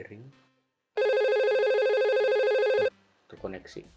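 A simulated VoIP phone in Packet Tracer sounds one steady electronic warbling ring of about two seconds, with a person talking just before and after it.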